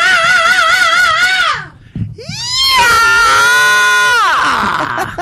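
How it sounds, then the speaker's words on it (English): Harsh, high-pitched metal-style vocal screams, two long wailing bursts with wavering pitch and a short gap between them, loud and close with no other talk. "Couple metal screams for you."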